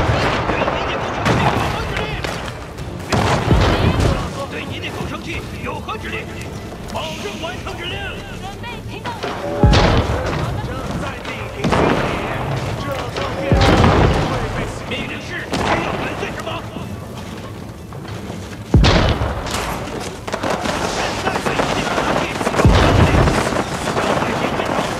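Chinese cannons firing in a real-time strategy game against hard AI, several heavy booms spaced a few seconds apart over a busy battle din, with a voice talking now and then.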